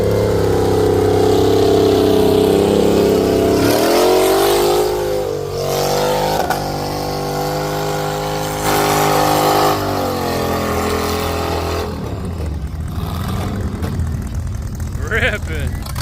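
Mud truck at a mud bog event, engine revving hard and loud up front, the roar sagging and surging through several throttle swings before easing into a rougher, quieter idle with scattered background noise.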